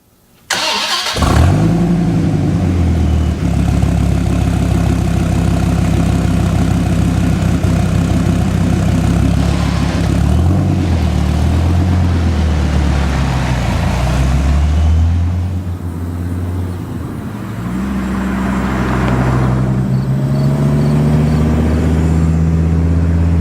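A supercharged Dodge Viper GTS engine fires up and roars loudly, holding a deep, steady rumble that swells and dips as it revs and pulls away, with no talking.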